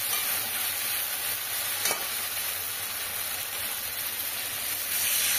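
Parshe fish frying in oil in a pan and being turned, giving a steady dense sizzle throughout with a brief scrape partway through, close and fairly loud, with no talking.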